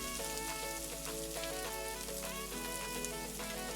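Onion mixture frying in a pan with turmeric powder being added, giving a steady close sizzle and crackle with faint scrapes, no voices, for leftover idiyappam dish.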